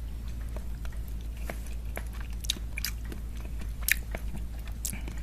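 Ketupat sayur with bamboo shoots, tunjang and cincang is bitten and chewed, soft crunches and wet chewing clicks scattered over a steady low background hum, close to the listener.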